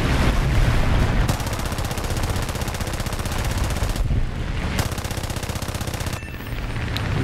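Gladiator Mk I machine guns in War Thunder air arcade combat fire in long rapid bursts, loud and close, with brief pauses between volleys and no voices.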